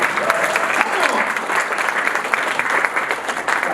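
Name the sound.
applause from audience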